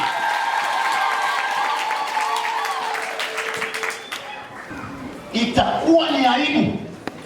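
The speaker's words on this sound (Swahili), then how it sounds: "Mpe Yesu makofi mengi sana." Applause breaks out from a crowd of young people at a Catholic youth teaching session, building into a dense burst of clapping in the second half after a stretch of loud talk.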